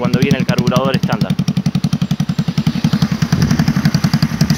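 A four-stroke chainsaw engine fitted with a new, larger carburetor and intake runs loud and close in a fast, steady pulsing rev, with a voice briefly talking over it near the start.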